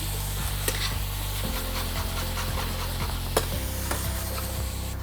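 Onions stir in melted butter in a pan, a close steady sizzle with a low hum underneath and a few sharp spoon scrapes and taps.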